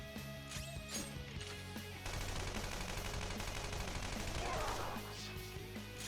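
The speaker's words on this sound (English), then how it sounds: "Oh, I shoot him." Gunfire from a boss battle in Persona 5 Royal rings out as a rapid burst of synthetic shots, sharp and loud, followed by a dense crackling clatter of game effects.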